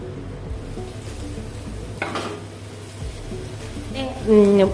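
Sardines (boothai) frying in deep oil give a steady low sizzle beneath the whole stretch, with brief louder bursts of crackle as pieces are turned, and a voice comes in near the end.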